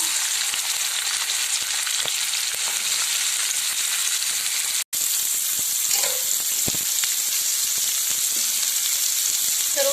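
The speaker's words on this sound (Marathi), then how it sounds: "कांदा मी टाकून घेतलेला आहे छान प्रकारे लाल होईपर्यंत आपल्याला भाजून घ्यायचं आहे" Onion frying in hot oil in a kadhai for egg bhurji, a loud, steady close-up sizzle with a few stirring scrapes and a brief dropout midway.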